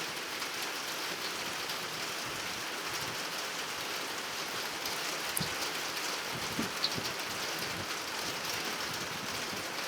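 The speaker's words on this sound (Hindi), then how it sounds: "बाहर बारिश होने लग गई है" Steady rain falls continuously, a dense hiss of drops on surfaces with a few louder splashes, no voices.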